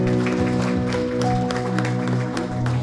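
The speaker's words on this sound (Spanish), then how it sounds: "Dale un fuerte aplauso al Señor." Church congregation applauding during a Sunday service, brief scattered claps over a sustained musical chord and murmuring voices.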